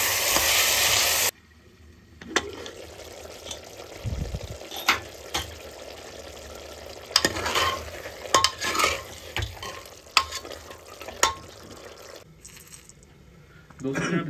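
Mutton cooks in a pan with turmeric and salt: a brief burst of sizzling opens, then irregular clinks and scrapes of stirring over a low, steady frying hiss.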